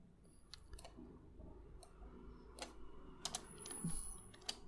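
Quiet, irregular tapping and clicking of keys on a computer keyboard while typing into PowerPoint WordArt, scattered sharp clicks in small bursts against a soft room hum.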